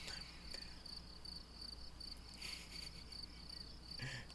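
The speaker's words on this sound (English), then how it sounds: "just the crickets are happening and stuff like that" Crickets chirp in regular, repeating pulses on a quiet night, faint and steady against a low background hum, with no voices.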